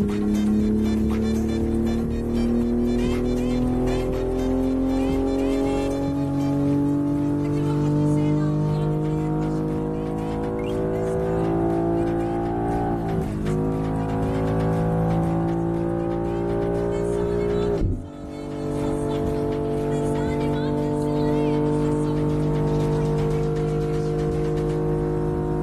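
Traffic cars driven in Assetto Corsa give a steady, loud engine drone. The pitch climbs through gears, drops at shifts, and climbs again, with a brief cut in the sound partway through.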